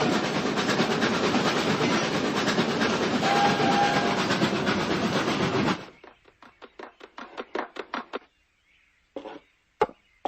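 An animated model train runs along its tracks with a dense, steady rumbling clatter for about six seconds. It then stops abruptly and leaves only a few scattered clicks and taps.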